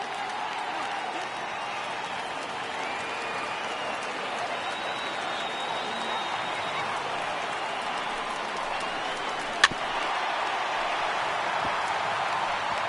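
Video game crowd noise from a sold-out 56,000-seat Los Angeles ballpark during a Cubs–Dodgers MLB The Show 18 game, a steady broad roar with a sharp click near the end.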